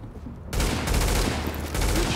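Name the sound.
gunfire at hostile forces in video game The Division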